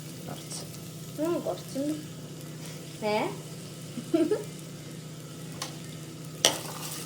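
Onions sizzle in hot oil in a pan on a home stove, a low steady frying hiss broken by scraping strokes of a stirring spoon, with a voice speaking briefly over it.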